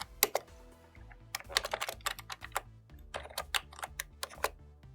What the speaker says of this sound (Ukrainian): Її вводимо з клавіатури.